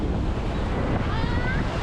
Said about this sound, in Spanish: Fijaros cómo juegan aquí con las olas.